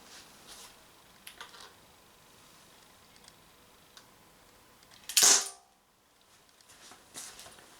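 A TT 33 CO2 gas-blowback airsoft pistol fires steel BBs: one sharp, loud crack stands out mid-clip against a quiet background with a few faint clicks.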